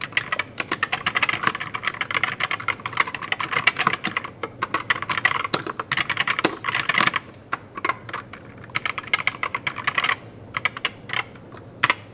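Rapid clicky keystrokes on a DIERYA DK61E wired 60% mechanical gaming keyboard, a dense close-up patter of typing that briefly slows into scattered single presses before speeding up again.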